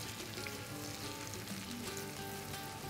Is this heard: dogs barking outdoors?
no